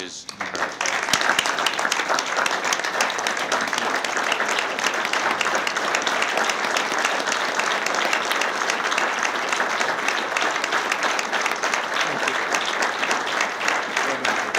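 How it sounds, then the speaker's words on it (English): Sustained applause fills the room for Steve at a Penn State Board of Trustees meeting, a dense and even round of clapping from many people that carries on loudly and steadily for the whole stretch. "I think we should all give Steve a round of applause"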